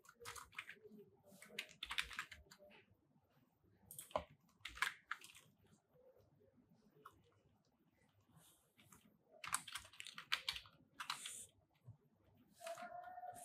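Code is typed on a computer keyboard in quiet bursts of rapid key clicks with pauses between them. The clicks are close but fairly soft, with no talking, and faint crowing from a rooster is heard in the background.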